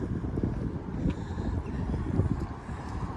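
Strong wind blowing across an allotment with a polytunnel: a steady, moderately loud buffeting rumble with small gusts, the microphone catching the rush of air.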